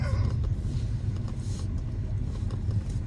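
BMW E63 fitted with new Bilstein suspension drives along, giving a steady low engine and road rumble heard from inside the cabin.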